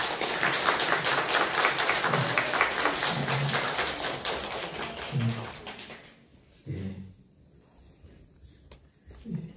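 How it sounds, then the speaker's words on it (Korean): Church congregation at a Sunday worship service applauds to welcome a returning member, many hands clapping warmly for about six seconds before trailing off into scattered taps and low thumps. "우리 박수 한번 주시죠."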